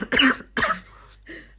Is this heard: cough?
yes